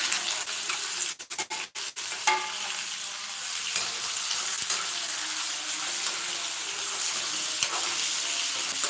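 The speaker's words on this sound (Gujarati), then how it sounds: "કાંદો નાખું ડુંગળી નાખું" Steady, loud sizzle of onions frying in a pan, with a few sharp clatters near the start and occasional stirring scrapes throughout.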